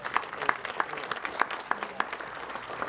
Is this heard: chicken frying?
no